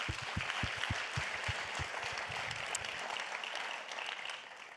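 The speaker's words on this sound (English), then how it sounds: "So another big round of applause for you." Audience applause at an opening ceremony, a dense wash of clapping from a crowd that holds steady through the clip and begins to fade toward the end, with no talk over it.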